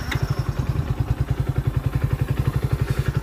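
A Hero Splendor Plus Xtec motorcycle engine running at idle, a close, steady low-pitched thumping pulse with an even rhythm and no talking.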